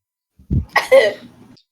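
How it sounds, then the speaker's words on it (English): A single short cough, close and fairly loud, with a brief throaty rasp trailing after it. "you just kind of cough"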